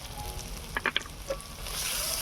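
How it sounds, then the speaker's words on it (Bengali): Turmeric powder stirred into hot oil with fried ginger, garlic and onion for a pointed gourd and shrimp curry gives a steady close sizzle, broken by a few quick scraping stirs. "হলুদ গুঁড়োটা এই তেলের মধ্যে একটু নেড়ে নেব"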